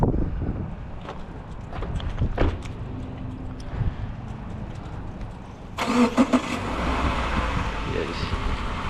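A car pulls forward a short distance at a roadside stop, its engine rising to a mid-pitched rumble partway through over wind noise on the microphone, with people talking nearby.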